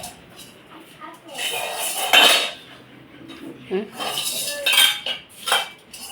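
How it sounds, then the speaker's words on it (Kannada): Metal kitchen vessels clatter and clang as a child pulls them out and tosses them around, in bursts of close, jangling impacts mixed with voices talking. "ಎಲ್ಲ ಪಾತ್ರೆಗಳು ಕಿತ್ತಿ ಕಿತ್ತಿ ಹಾಕ್ತಾವಳೆ"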